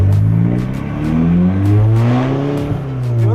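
A loud all-wheel-drive hot hatchback engine revs hard, its raspy note climbing and falling in repeated sweeps, close and alone with no talking.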